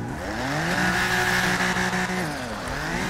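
A BMW M4 sports car engine in GTA 5 revs up and holds a high, buzzing whine before easing off, loud and steady with no talking.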